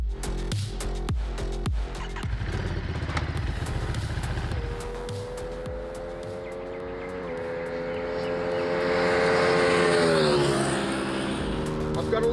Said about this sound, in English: Well, Steve, start your engines.